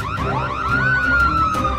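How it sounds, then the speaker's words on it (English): A cartoon bank alarm rings loudly and continuously, a wavering electronic siren tone rising and falling with repeated pulsing bursts and no voices over it. "It seems like it's an alarm from the bank"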